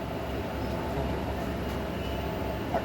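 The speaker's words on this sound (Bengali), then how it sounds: "এখন ট্রেনটা হলো অন্ধ্রপ্রদেশের উপর দিয়ে যাচ্ছে" Steady low rumble of a moving train through Andhra Pradesh heard from inside, continuous wheel and carriage noise with a faint squeal near the end.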